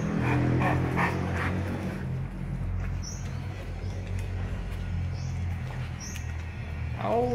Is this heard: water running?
no